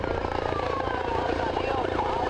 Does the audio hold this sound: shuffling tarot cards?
no